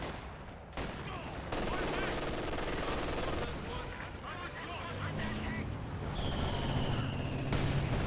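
Dense battle gunfire from Company of Heroes 2, with bursts of machine-gun fire and heavy mortar explosions in a continuous fusillade. It runs steady and loud throughout, with faint in-game voices mixed in.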